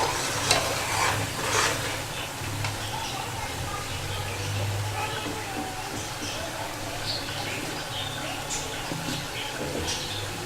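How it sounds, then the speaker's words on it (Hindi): Tomato paste with garlic-ginger paste frying and being stirred in a pan for a restaurant-style Bombay biryani, a steady close sizzle with scraping stir sounds throughout and no talking. "टमाटो पेस्ट के साथ ही हम इसमें लहसुन अदरक का पेस्ट भी डाल देंगे और इसकी अच्छे से भुनाई कर लेंगे"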